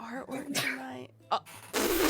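A person talks briefly, then a sharp, breathy sneeze bursts out loudly at the end, close to the mic.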